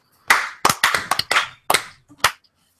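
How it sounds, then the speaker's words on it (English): Several sharp hand claps from podcast hosts syncing their recording, loud and close: a single clap, then a quick irregular burst of four or five, then two more spaced apart, with silence around them. "are we ready to clap and sync up?"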